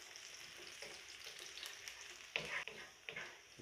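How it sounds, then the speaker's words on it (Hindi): Garlic frying in hot oil in a pan, giving a steady, soft sizzle throughout with a few louder crackles and spatters near the end. "ऑयल के गर्म हो जाने के बाद इसमें हम ऐड करेंगे लहसुन"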